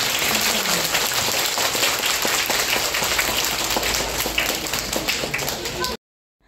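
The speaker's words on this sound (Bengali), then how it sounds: "সবাই একটা জোরে তালি দিয়ে তাকে।" An audience at a school textbook festival claps loudly in a dense, sustained burst of applause that stops abruptly after about six seconds.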